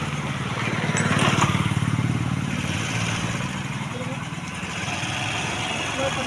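A driving-school vehicle's engine runs close by, with a steady rumbling drone that rises in a rev early on and then settles back. A person talks over it.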